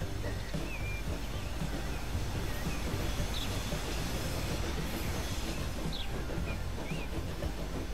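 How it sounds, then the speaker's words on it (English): Train rolling along the tracks in the Transport Fever 2 game, a dense, steady rumble with faint wheel squeals and bird-like chirps over it, continuous and fairly loud throughout. "Alright, there's our tool train"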